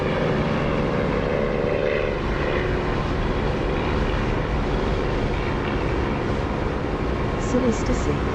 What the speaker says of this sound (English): I think the P51 engine sound on the ground is really good actually.